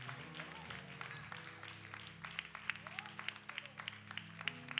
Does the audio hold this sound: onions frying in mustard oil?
no